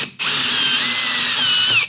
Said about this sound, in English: Oh, let's try the drill.